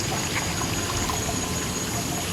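Water streams and trickles steadily into a tank beside a river, a continuous close rushing wash with no pauses and no voices.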